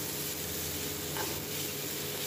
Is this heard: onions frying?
yes